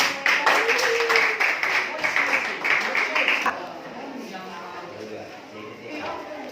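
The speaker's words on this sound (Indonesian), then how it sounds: "tepuk tangan" Students in a classroom clap together during a chemistry lesson, a brisk dense patter lasting a few seconds before it stops abruptly, leaving quieter room noise.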